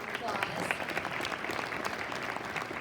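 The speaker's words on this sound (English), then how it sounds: "Go ahead and give her a round of applause." A crowd claps steadily and evenly throughout at the Ohio Fairs Queen Contest, with faint voices mixed into the applause.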